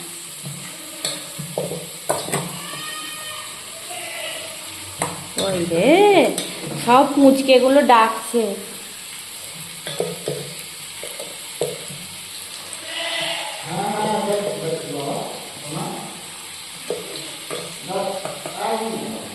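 Potatoes sizzle and fry steadily in a pan close by, with repeated stirring scrapes and clinks of a utensil against the metal, while someone talks intermittently over the cooking.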